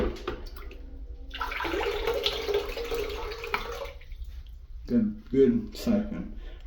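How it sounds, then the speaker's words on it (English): An ELT Consaul toilet flushed by pouring in a bucket of water, a gushing rush that swells and fades, followed by a brief stretch of talking. "just a bucket flush"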